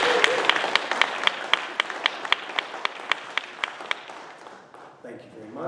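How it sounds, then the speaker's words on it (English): An audience at a civic meeting applauds in a steady, dense round of clapping with sharp individual claps standing out near the microphone, fading after about five seconds as a voice begins speaking. "Let us welcome them with joyous applause."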